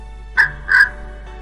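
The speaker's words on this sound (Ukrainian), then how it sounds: "Чи присяде, чи летить, кар-кар-кар усе кричить." A crow caws twice in quick succession, loud and close, two harsh clear calls over a quiet background, with a faint third note trailing at the end.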